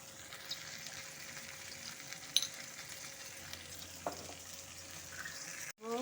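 Potato and cauliflower pieces sizzle steadily in hot oil while being stirred, with a low continuous frying hiss, a few soft clinks and a brief louder clatter near the end.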